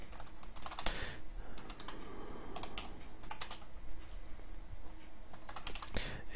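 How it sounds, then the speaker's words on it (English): Rapid, uneven clicks of typing on a computer keyboard sound close and moderately quiet, coming in short bursts with brief pauses as code is entered. "let me finish typing this out here, sorry"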